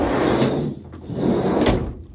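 The repaired sliding side door of a Ford Transit van rolling along its runner, heard as two loud rumbling slides back and forth with a thud between them, close up and without talking.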